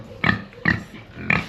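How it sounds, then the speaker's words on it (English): Young boar pig on a small farm grunting close by, three short, loud grunts in an uneven rhythm. "Right, on to the pigs."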